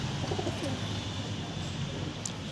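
Kolkata-line pigeons coo in a steady, repeated low burble close by, with no talking.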